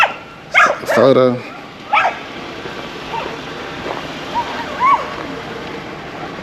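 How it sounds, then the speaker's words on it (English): Dogs bark out in the countryside, a few loud sharp barks early on, then fainter yips and barks farther away over an outdoor background, with people speaking briefly. "Everybody got dogs out here in the country."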